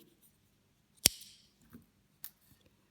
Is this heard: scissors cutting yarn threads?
yes